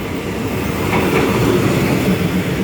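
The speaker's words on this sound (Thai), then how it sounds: "นี่ครับ เป็นสถานีรถไฟเก่าแก่รถไฟจะเข้าแล้วมาจากกรุงเทพนะครับ" A train pulls into an old railway station on its way in from Bangkok, a loud, steady rumble of rolling wagons and wheels close by, with no talk over it.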